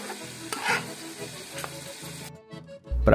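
Garlic fries in a pan for a rustic countryside dish of mutton spine, with steady stirring and sizzling, then a sharp louder hiss near the end as a little water hits the hot pan.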